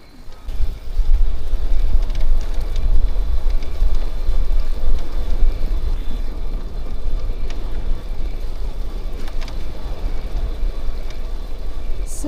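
Wind buffeting on an electric bicycle ride along a cycle path in a Dutch national park, a loud, steady low rumbling roar with gusty fluctuations that continues throughout.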